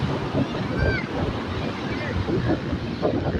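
Ocean waves wash up on a beach in Banda Aceh with a loud, rushing roar, mixed with gusty wind buffeting the microphone while a person talks nearby.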